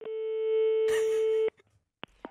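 A telephone busy tone sounds after a call is hung up: one steady, loud electronic tone held for about a second and a half, then cut off, followed by a couple of short clicks.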